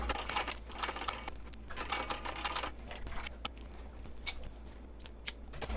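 A sewing machine stitches a seam across a fabric wristlet, running in quick clattering bursts with brief pauses, close and crisp, with no talking.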